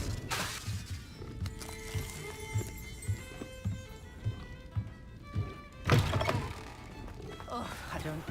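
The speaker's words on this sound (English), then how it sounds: "Expelliarmus!" An Expelliarmus spell fires in Hogwarts Legacy with a sharp shattering burst and ringing magical tones, set among soft thuds, steps and game ambience, with a voice briefly present.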